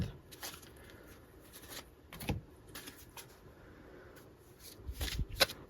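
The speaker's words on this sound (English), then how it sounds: "let's pull your other cards" Tarot cards being shuffled and pulled from the deck, giving soft repeated riffling and snapping flicks in quick bursts, fairly close and quiet, with no talking.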